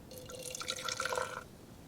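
Beer fizzing with carbonation in a glass at a campsite, a soft continuous crackle of tiny bubbles, close and quiet, with no talking.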